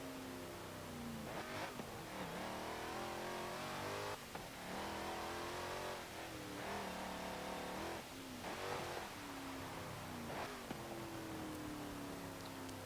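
A 2018 Honda Odyssey minivan's engine in Forza Motorsport 7 revs hard and steadily through several upshifts, each marked by a brief dip before the loud, continuous drone of acceleration climbs again, with no talk.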